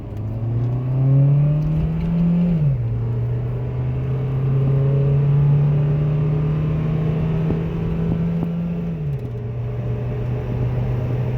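A Honda car engine drones steadily while driving, a close, continuous hum that climbs slightly and drops twice as the revs shift.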